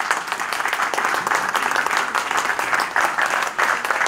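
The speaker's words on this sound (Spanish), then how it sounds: "la directora del museo, Ileana Fuentes, una persona que merece un gran aplauso." Warm, steady applause from an audience at a museum lecture on José Martí's poetry, many hands clapping together for about four seconds with no speech.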